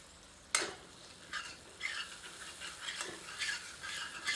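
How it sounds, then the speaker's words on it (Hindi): A ladle scrapes and stirs masala frying in a pan for a mutton kidney fry, a sharp clank followed by soft intermittent scraping strokes over a gentle, steady sizzle, close up and without talk. "पर बीच में करछी चलाते रहते हैं ताकि मसाला जले नहीं।"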